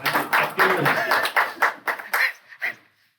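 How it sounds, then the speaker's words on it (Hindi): An audience at an intimate studio poetry gathering gives a short burst of applause, clustered claps in uneven pulses that thin out and stop after about three seconds. "तो एक बार खुद के लिए तालियां हो जाएं"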